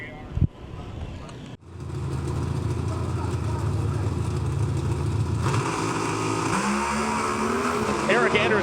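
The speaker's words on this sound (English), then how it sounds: "Eric Anders' car rattles the tires, and Greg Anderson motors virtually unopposed on the right side of the drag strip" Drag racing cars at the NHRA New England Nationals roar down the drag strip in a loud, sustained, full-throttle blast after a brief sharp burst, and the roar grows rougher toward the end.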